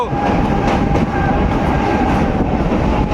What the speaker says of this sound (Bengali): সেই ব্রিজ থেকে সোজা এখন এই মুহূর্তে ট্রেন যাচ্ছে মুর্শিদাবাদ জংশন রেল স্টেশনের পথে